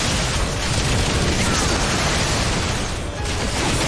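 A star bomb detonates in Final Fantasy XIV, a dense, roaring blast of noise that fills the whole clip loudly and evenly, with a brief dip near the end.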